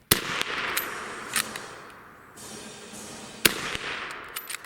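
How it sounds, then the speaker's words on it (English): A Mk I Lee Metford bolt-action rifle fires rounds, with sharp distinct reports spaced irregularly across the span, several close together, over a steady hiss of outdoor background and no talking. "These first 9 rounds were fired, as you might expect, with relative ease."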